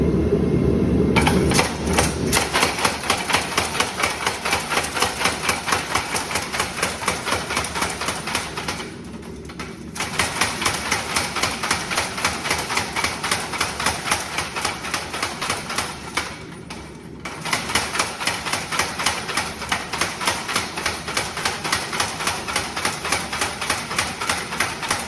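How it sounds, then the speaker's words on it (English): Power hammer pounding a hot Damascus steel billet, a rapid, loud, steady stream of mechanical blows repeated over and over, with two brief pauses before the hammering resumes at the same pace. "go into the power hammer"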